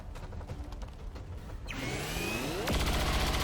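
A weapon discharges in XCOM 2 over a low mechanical hum, building into a rising whoosh before a sharp loud burst hits near the end.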